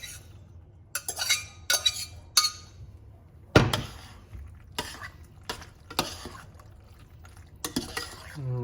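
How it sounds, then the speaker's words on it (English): Dry macaroni noodles tossed into a cooking pot make bright clinks and rattling clatters in scattered bursts, with a cough and a little speech in between. "I'm gonna toss in my noodles."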